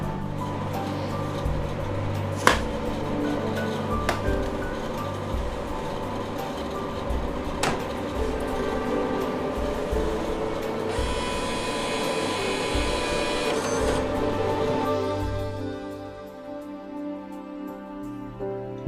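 A Megatouch Maxx Jade 2 arcade touchscreen machine powers up with a steady fan-like whir and hum, a few sharp clicks, and a brief bright electronic tone before the noise drops away near the end.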